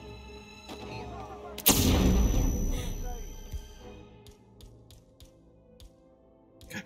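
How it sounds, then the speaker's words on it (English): A pistol shot in the video game Hitman Freelancer, one sharp loud report whose heavy boom decays over a couple of seconds, followed by fainter clicks and game sounds. "I'm just gonna plug the guy with a passing pistol shot"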